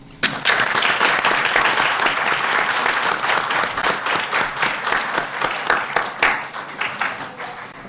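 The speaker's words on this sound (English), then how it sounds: "Please give them a round of applause." A crowd applauds Special Olympics athletes at a city council meeting, a dense, steady burst of clapping that runs continuously for several seconds before thinning slightly toward the end.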